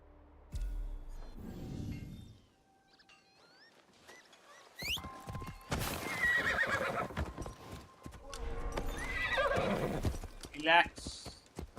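Horse in Assassin's Creed Shadows whinnying and neighing loudly, with clip-clop hoofbeats galloping beneath game sounds; the calls are sharp and close, rising in the middle and near the end.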